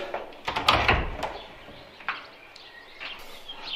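House door fitted on a converted heavy truck, closed with a couple of sharp knocks and rattles near the start, then quieter handling clicks, with faint birdsong in the background.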